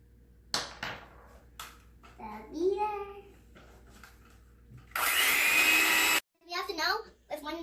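An electric mixer whips egg whites for a pavlova, a loud steady whirring burst lasting about a second, framed by a voice talking before and after.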